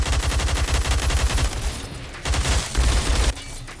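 Rapid automatic AUG rifle fire in Roblox Phantom Forces, loud close bursts of evenly spaced shots, a long stream then short pauses and two more quick bursts.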